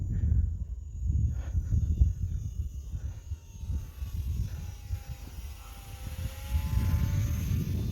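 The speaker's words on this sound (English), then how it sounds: "I actually really like the sound of it now. Kind of sounds like a real airplane." Eachine T-28 RC model airplane flying on a windy day, a steady high electric whine from the motor with pitch sweeps as it passes, over gusty low wind rumble.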